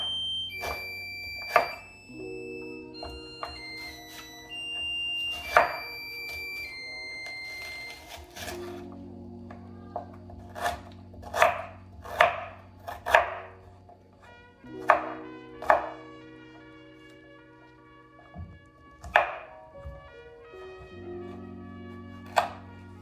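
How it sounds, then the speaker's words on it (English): Knife chopping ingredients for a Jamaican jerk chicken marinade, with sharp, irregular thuds on a board against a background of sustained tonal music. "I don't want to have to cut it up too thin, because I'm gonna blend it in any case"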